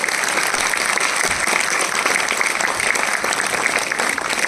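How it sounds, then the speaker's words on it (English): A loud, resounding round of audience applause at a celebration honoring women scientists of the Chandrayaan 3 mission, dense and steady clapping from a large crowd throughout. "can we have a resounding round of applause for these women"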